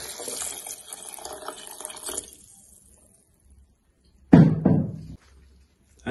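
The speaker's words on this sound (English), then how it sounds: "I'm just gonna go ahead and add some water." Water gushes and splashes into a blender for a couple of seconds, stops, then a short knock and another burst of pouring follow.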